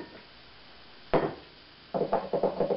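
A spoon or whisk works pumpkin pie filling by hand in a bowl. One sharp knock comes first, then a quick run of rhythmic scraping and tapping strokes, close and fairly quiet, with no talking.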